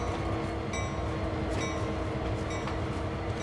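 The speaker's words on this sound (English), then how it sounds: "Oh no, we got a runaway train." Runaway train in the video game Train Sim World 2, a continuous loud rumble of wheels on rails with faint metallic clicks and squeals, heard from inside the carriage with no talk.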